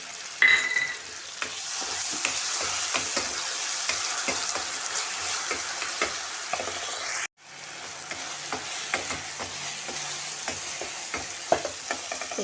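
Tomato sizzling and frying in a pan for Malvani matki usal, with a steady hiss and scattered stirring clicks throughout, briefly dropping out in the middle before resuming at the same level.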